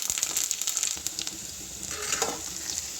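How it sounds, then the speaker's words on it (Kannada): Garlic sizzles in hot oil with mustard seeds and cumin for an amaranth-leaf stir fry, a steady close crackle with scattered sharp pops throughout. "ಬೆಳ್ಳುಳ್ಳಿಯನ್ನು ಸ್ವಲ್ಪ ಗೋಲ್ಡನ್ ಕಲರ್ ಬರೋವರೆಗೂ ನಾವು ಫ್ರೈ ಮಾಡ್ಕೋಬೇಕು"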